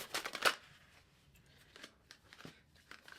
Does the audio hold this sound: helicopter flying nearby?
no